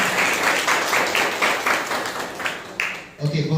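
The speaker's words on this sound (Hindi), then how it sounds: "जोरदार तालियां।" Loud applause from a church congregation welcoming first-time visitors at a New Year's Eve service, steady clapping throughout that tapers near the end, with a voice speaking over it.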